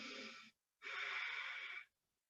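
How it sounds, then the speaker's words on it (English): Two long, breathy respirations during a yoga class: a close, airy breath lasting about half a second, a brief pause, then a longer, steady rushing exhale, clearly audible with no talking. "Another inhale and exhale."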